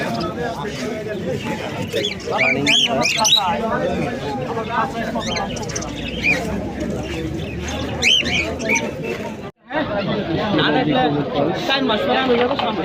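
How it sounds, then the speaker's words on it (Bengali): Lovebirds at a busy Friday bird market in Sreepur, Gazipur, give sharp, rapid chirps and squeaks mixed with other birds, partly masked by constant crowd chatter and people talking nearby. "চলো লাভবার্ড পাখি দেখে"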